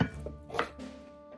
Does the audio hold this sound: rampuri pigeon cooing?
no